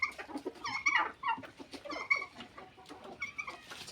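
Several native country chickens cluck and chatter nearby on a farm in short, overlapping calls, with soft background rustling throughout.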